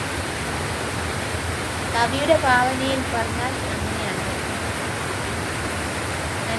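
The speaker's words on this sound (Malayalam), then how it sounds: "കളകളാരവം പൊഴിച്ചുകൊണ്ട് ഒഴുകുന്ന പുഴ" A swollen river flows with a steady, broadband rushing wash, close and constant throughout, while someone speaks briefly over it.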